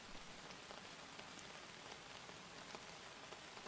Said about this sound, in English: You cannot light a fire while it's raining.